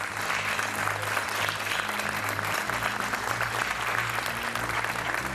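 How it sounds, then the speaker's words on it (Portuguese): Studio audience of the RTP 1 game show Joker applauds a contestant, a continuous even wall of clapping from many hands with a low musical hum underneath. "O aplauso para o Diogo Guedes."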